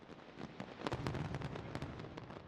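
A fireworks display bursting high in the sky, with rapid crackling pops and sharp bursts densely overlapping throughout, loud and continuous with no talk.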